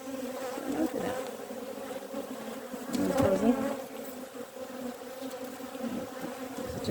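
Honey bees buzz steadily in an opened beehive, a close, dense hum that swells briefly in the middle, with no talking.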